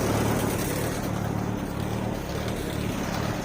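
Engine of a 1940 Allis Chalmers B tractor running steadily at idle, a close, continuous low chugging drone with no shutoff heard.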